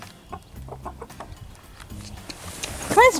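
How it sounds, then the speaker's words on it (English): Chickens cluck in a barn, a series of close, soft low clucks and short calls, ending in a louder rising squawk, with no talking. "Hi, chicken."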